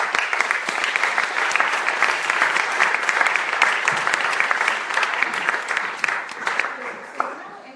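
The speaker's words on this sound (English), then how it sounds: "Let's give them a first round of applause." An audience gives a warm, sustained round of applause at a panel event, dense clapping holding steady and thinning slightly near the end.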